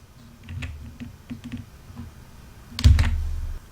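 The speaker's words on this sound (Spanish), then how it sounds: "Vamos a teclear ita, búsqueda." Keys tapped on a computer keyboard in a quiet room, a few soft scattered clicks followed by a firmer, louder press near the end.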